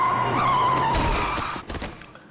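Car tires skid in a loud, sustained squeal lasting under two seconds as a vehicle brakes hard before striking a man, a film sound effect, ending in a few short scrapes and thuds before cutting to silence.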